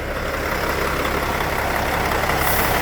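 A 2016 Hyundai Universe Luxury 46-seat commuter bus engine idling, a loud, steady low rumble with a constant mechanical drone heard up close and without talk.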